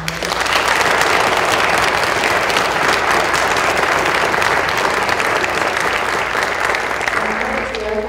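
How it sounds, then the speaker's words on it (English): A steady round of audience applause at a young soloist arts event carries on evenly for several seconds, loud and continuous, with a voice faintly beginning near the end. "please give them a round of applause"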